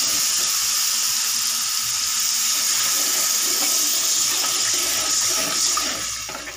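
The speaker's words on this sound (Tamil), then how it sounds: "தண்ணியை நம்ம இப்போ ஊற்றுறோம்." A steady splashing gush of cornflour mixed in water being poured into a pan, continuous and close, easing slightly toward the end.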